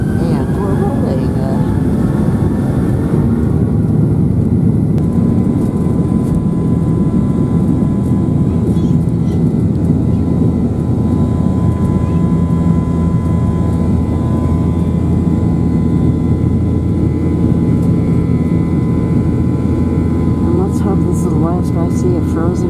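A United airliner rolls down the runway for takeoff at a frozen Chicago O'Hare, a steady, loud, low cabin roar that holds unbroken throughout.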